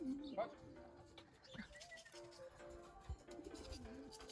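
Racing pigeons coo softly at the loft in a few low, rolling calls, near but quiet, while people talk in Polish over them.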